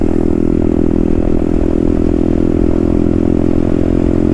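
Herald Maverick 125cc fuel-injected retro scrambler motorcycle ridden at steady speed, its single-cylinder engine thrumming with a loud, raspy, noisy exhaust close to the rider, constant with no pause.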